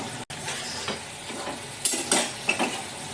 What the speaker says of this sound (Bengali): এবারে আমি এই যে মাছ আর বেগুনটা দিয়ে কষিয়ে